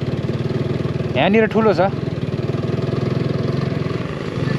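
A tractor engine chugs at a steady idle throughout, a low, even rumble nearby, while a person speaks briefly over it midway.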